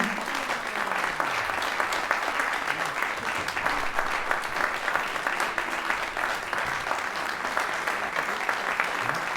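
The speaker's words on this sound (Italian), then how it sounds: "Un applauso" Sustained, even applause from a concert audience greeting a chamber ensemble of soloists at a matinee performance, dense clapping lasting the whole stretch at moderate loudness with a faint voice underneath.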